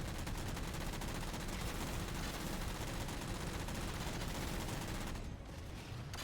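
Dense, continuous gunfire in Halo 4, a loud, unbroken barrage of rapid shots that suddenly thins out near the end.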